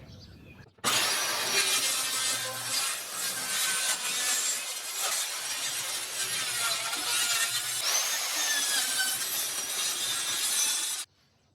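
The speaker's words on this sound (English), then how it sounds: "I'm gonna see if we can't use the circular saw to finish this off" A circular saw cuts wood for shed trim in one loud, steady pass of about ten seconds, starting and stopping abruptly, with no talk.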